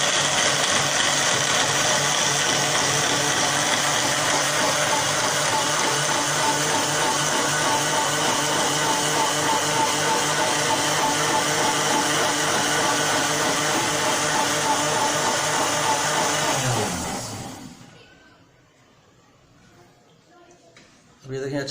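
An electric grinder whirs loudly and steadily as it blends mint leaves with black salt, a continuous high motor drone lasting about seventeen seconds before it spins down and stops, leaving near quiet.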